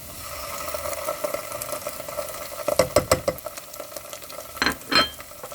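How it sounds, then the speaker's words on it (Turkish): Tomato paste frying in a pan with sautéed peppers gives a continuous sizzle, followed by a burst of close stirring clatter and scraping toward the end, with no talking. "Salçalarımızı kokusu çıkana kadar kavurduk."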